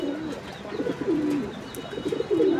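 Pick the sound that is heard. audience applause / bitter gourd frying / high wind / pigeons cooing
pigeons cooing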